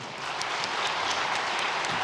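Church congregation at a Sunday service awards ceremony applauds together, an even, dense patter of clapping heard from a moderate distance, steady throughout without speech.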